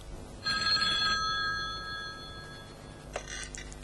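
A telephone bell rings close by in a single bright, ringing burst that fades out. A second, shorter chirp follows at the end over faint background hum.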